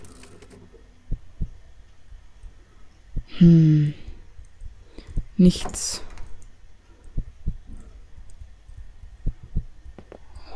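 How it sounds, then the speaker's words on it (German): Soft, regular heartbeat thumps pulse in the horror video game One Late Night, low and muffled under someone speaking German and a few clicks. "Oh, dieser Herzschlag."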